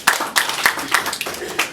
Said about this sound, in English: Please, another round of applause to them.